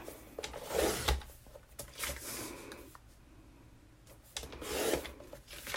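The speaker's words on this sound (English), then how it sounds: "So I am going to cut this for some 4x6 photo mats." Scrapbook paper being cut for 4x6 photo mats, a series of close, soft rasping slices and rubbing passes with small clicks, coming in uneven bursts with quieter gaps between them.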